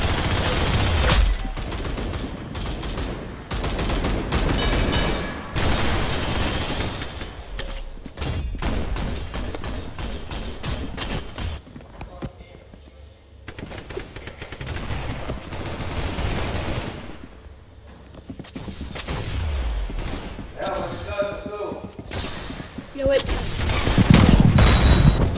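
Dense gunfire in the Roblox-style shooter game Arsenal, with rapid automatic bursts, single shots and heavy thuds crowding together loudly and almost continuously, broken only by a few brief lulls.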